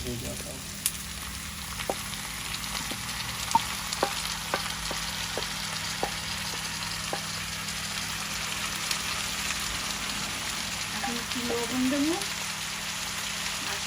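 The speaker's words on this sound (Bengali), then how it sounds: "করল্লা কাঁচামরিচ আলু একবারে দিয়ে দেবেন" Bitter gourd, green chili and potato frying with onion in a pan: a steady soft sizzle with scattered light pops and crackles, and a brief stir near the end.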